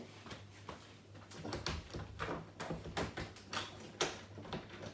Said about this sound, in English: I should just take the key out of the back door.